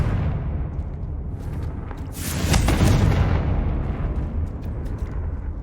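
A booming Confringo blast spell explosion in Hogwarts Legacy, a loud rumbling burst that swells and rolls over a couple of seconds above a steady low background.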